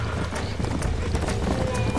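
Horse hooves from Red Dead Redemption pound in a fast, steady clip-clop, loud and close, with a voice speaking over the galloping.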